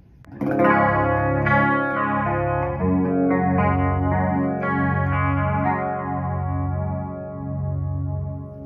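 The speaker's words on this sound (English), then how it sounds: "Sounds like chorus, right?" Sustained guitar notes with a shimmering, wobbling chorus effect built using a Boss LS-2 Line Selector, pitches gently sweeping and doubling as they ring out, played alone at moderate volume.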